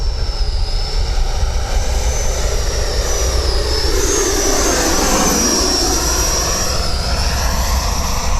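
An E-flite Viper 70mm electric ducted-fan RC jet flies past with a loud, steady high-pitched whine and whoosh that shifts in pitch as it passes near overhead, heard alone without voices.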